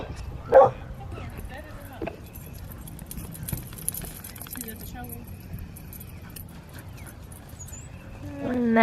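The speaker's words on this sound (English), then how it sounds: "Yeah, that's my dog." A pet dog gives a couple of short barks and yips in a room, one sharp bark standing out early, mixed with jangling keys and people talking over faint background noise.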